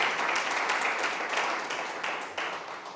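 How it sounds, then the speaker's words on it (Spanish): A church congregation applauds after a sermon, steady dense clapping that fills the room for several seconds before tapering off slightly, with no speech over it. "Démosle un aplauso al Señor, que es para Él."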